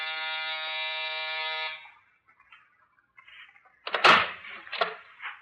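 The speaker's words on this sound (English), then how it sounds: "That's the buzzer over there." A penthouse door buzzer in a radio drama sounds as one long, steady, harmonically rich buzz lasting almost two seconds. Quiet shuffles and a door-like thump with clatter follow.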